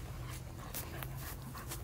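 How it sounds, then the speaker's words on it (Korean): A ten-month-old dog pants at Kitsilano Beach in Vancouver, a steady close breathing rhythm over continuous outdoor background noise, with a few faint whimpers. "지금 만난 이 강아지는 10개월 됐답니다."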